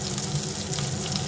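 Bhola fish pieces fry in a pan with a dense, even sizzle, close and unbroken for a moment.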